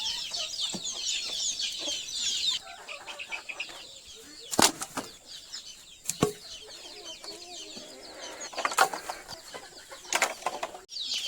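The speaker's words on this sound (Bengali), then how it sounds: "যদিও এখানে হাঁস আছে, মানে হাঁসের বাচ্চা, আর ওইখানে নতুন মুরগির বাচ্চা ওই 8টার মতো" Chickens cluck and flap their wings on a small farm where ducklings and about eight new chicks are kept, a busy layer of bright chatter with several sharp bursts of wing beats standing out through the clip.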